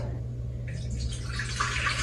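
Water is poured into a cooking pot while making chicken mandi, a soft, faint splashing stream that grows brighter partway through over a low steady hum.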